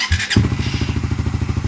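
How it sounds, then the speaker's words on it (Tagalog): A Suzuki Raider 150 Fi motorcycle engine catches after a short starter whir and settles into a loud, close, steady idle with an even rapid pulsing thump. "So yun yung tunog ng makina mga calls."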